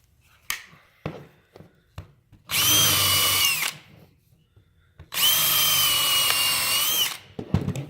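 Power drill driving a pilot bit into clamped wood, heard in two sustained whining bursts of about a second and two seconds, close up, with light knocks and handling clicks between them.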